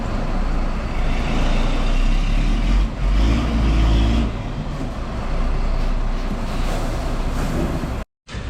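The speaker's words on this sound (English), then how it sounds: "truck number 1 is still stuck" A heavy concrete truck stuck on a house-build site in Udon Thani, Thailand, its engine rumbling loud and steady with surges of revving, broken by a brief cut near the end.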